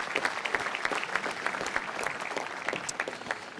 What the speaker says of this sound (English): So give them a nice round of applause.